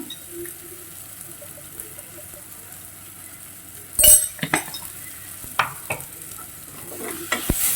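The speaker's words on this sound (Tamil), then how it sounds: "கொஞ்சம் லேசாக வதங்கட்டும்." Ingredients sauté on low heat in a pan for pongal with a faint continuous sizzle. A spoon stirs and scrapes with several clear clinks in the second half.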